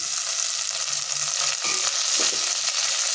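Tomatoes and fresh mint sautéing in a hot pan, giving a continuous, fairly loud sizzling hiss with a few soft stirring scrapes and no voices.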